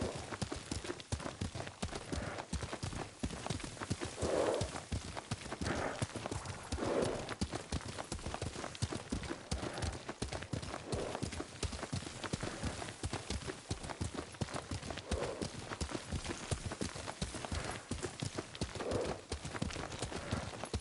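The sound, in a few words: horse hooves while riding, from video game Ghost of Tsushima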